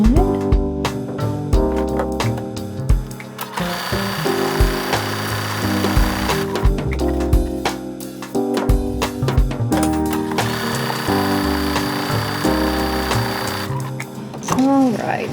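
A sewing machine stitches buttonholes on linen pants, a steady mechanical rattle with brief pauses, mixed with what seems to be background music.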